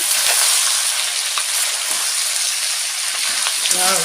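Pallipalayam chicken frying in a pan with curry leaves, a loud close hiss of hot oil with a few faint stirring knocks and a brief sound near the end.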